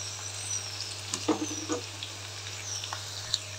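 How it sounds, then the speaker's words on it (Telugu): Two onions frying in hot oil for dal khichdi, a soft steady sizzle close by, with a few light stirring clicks and scrapes and no talking. "కొంచెం గోల్డెన్ బ్రౌన్ వచ్చేలాగా వేపుకుందాం మనం దీన్ని."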